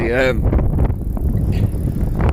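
Steady northwesterly headwind roars over the microphone of a cyclist riding north on a Koga World Traveller touring bike, loud and continuous, with a brief voice at the start.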